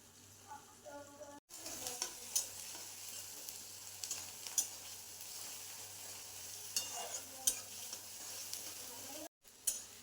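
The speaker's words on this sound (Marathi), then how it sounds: "भाजी फोडणी टाकत आहे" A quiet tempering sizzle for a dry matki and pavta vegetable dish crackles steadily in a home kitchen, with scattered pops and stirring and a couple of brief cut-outs.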